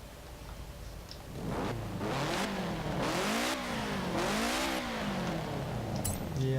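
A 1990 Subaru RS car engine in Forza Horizon 4 revs up and down repeatedly, its pitch rising and falling in smooth sweeps, loud and steady throughout with a faint voice at times.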